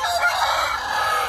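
A Japanese Shamo rooster crows loud and close in one sustained, hoarse call that fills the whole moment, with no other sounds around it.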